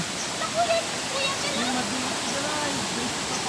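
A strong river current rushes beneath a bridge during a typhoon, a dense, steady roar of water close by, with a voice speaking over it.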